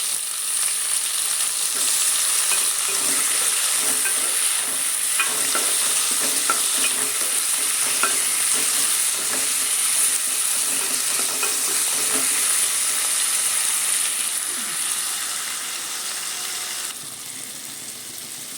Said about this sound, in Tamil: தக்காளி போட்டுக்கணும்.